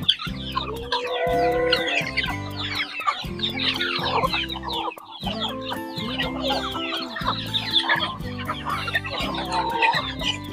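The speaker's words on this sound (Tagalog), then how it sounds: "Sisiw po yung marami dito sa atin ngayon." Chicks and chickens on a farm cluck and peep continuously and close by, a dense mix of many birds with a rooster crowing in the flock.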